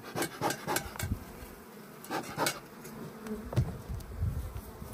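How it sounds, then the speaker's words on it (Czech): Honeybees buzzing at an open hive during a spring inspection, a steady near drone with louder swells as bees fly close, repeating every second or so without talk. "Když to vydáte a ty včely takhle v pohodě sedí, tak znamená to, že asi je OK."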